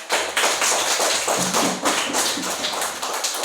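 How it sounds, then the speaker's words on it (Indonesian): A class of students claps their hands together in a dense, fairly loud burst of sharp, rapid claps lasting throughout, with almost no talk. "Tepuk tangan dulu."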